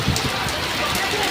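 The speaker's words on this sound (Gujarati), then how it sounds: "ચારે બાજુ ખૂબ જ સારો વરસાદ છે।" Heavy monsoon rain pouring steadily over an open rural area, a dense, continuous hiss of drops on surfaces filling the whole moment without a break.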